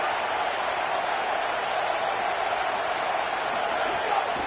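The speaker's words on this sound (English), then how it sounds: "And how nice is it to have the home crowd going absolutely bananas?" A home crowd at a college football game roars in a dense, unbroken wall of noise that stays loud and level throughout, with no single voice standing out.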